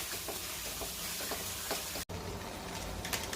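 Chili powder being stirred into mutton in a frying pan, a soft steady sizzle with faint scraping strokes of the spoon, fairly quiet and alone, with a brief dropout midway.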